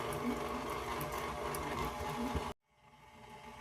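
An electric mixer beating softened cream cheese for a no-bake banana pudding, a steady whirring motor hum that stops abruptly near the end and leaves faint background noise.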